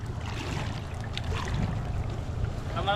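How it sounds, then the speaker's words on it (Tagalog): Honda marine engine on a boat runs as a steady low rumble throughout, mixed with wind and water noise, with faint voices in the background. "Ay, Honda naman yung makina."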